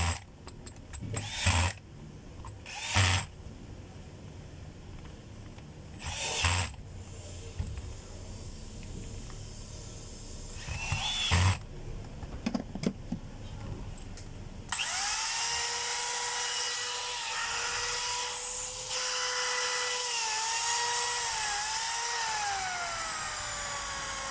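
A DeWalt D21003 drill, first heard in short bursts of whirring separated by pauses, then running continuously at close range with its pitch shifting as speed varies.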